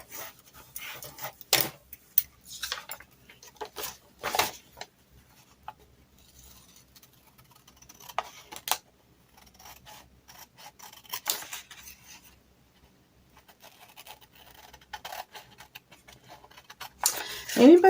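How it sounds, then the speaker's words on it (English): Vintage scissors cut through paper in a series of sharp, crisp snips and rustles, close and irregular, with quiet pauses between bursts. "Anybody love the sound of cutting paper?"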